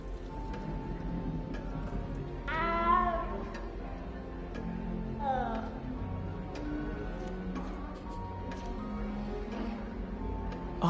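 Within the Hogwarts Legacy game world, a small cat gives two distinct meows a few seconds apart, each a bright rising-and-falling call over continuous quiet background music and ambient tones.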